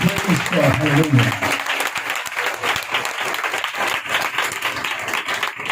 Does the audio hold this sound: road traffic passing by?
no